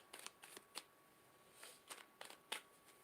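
Tarot cards are shuffled during a psychic reading, giving soft, quick riffling bursts in irregular clusters, close and quiet with no talk.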